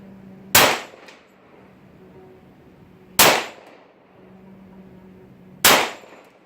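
Three loud, sharp shots from an Aero Survival Rifle in .45 ACP, fired at a steel target outdoors, each a crisp bang with a short ringing tail, spaced roughly two and a half seconds apart over a quiet background.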